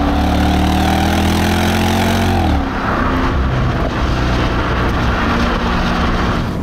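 A Mercedes SLK55 AMG (R172) V8 roars loudly under hard acceleration, its pitch climbing steadily before a gear change drops it into a rougher, deep rumble, close and without talk.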